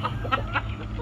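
A heritage Barred Plymouth Rock chicken from a brown-egg breeder flock gives a few short, close clucks over a steady low background rumble.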